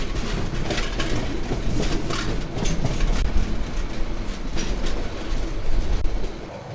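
Kurigram Express rolls onto the Jamuna bridge, a continuous loud rumble with rhythmic clickety-clack of wheels over rail joints, heard from on board with no talking.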